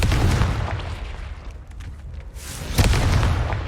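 Confringo blasting spells burst in Hogwarts Legacy, dense booming explosions filling the clip, with a sharp loud blast near the end over continuous rumble and no talk.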